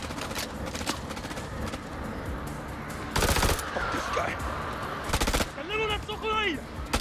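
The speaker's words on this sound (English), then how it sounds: "Now would be a good time for Salim to take a pot shot on Dar." Bursts of automatic gunfire crack through a busy battle scene in The Dark Pictures Anthology: House of Ashes, with voices and whistling effects mixed between the volleys.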